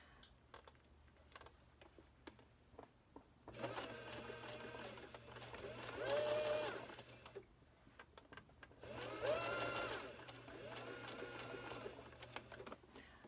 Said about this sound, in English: we're going to do a 1/4 inch top stitching from the edge all the way around